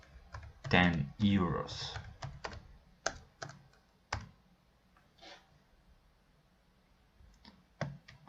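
Typing on a computer keyboard while entering product data, with clusters of sharp key clicks, a couple of louder bursts early and scattered single taps after, and a voice speaking briefly between them.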